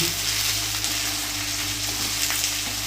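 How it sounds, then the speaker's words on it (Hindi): Round-cut green chillies fry on high flame in a pan, giving a steady, close, loud sizzle with light crackle throughout and no talking. "हल्के से फ्राई करेंगे, लेकिन क्या करेंगे, गैस अभी हाई फ्लेम पे दोस्तों"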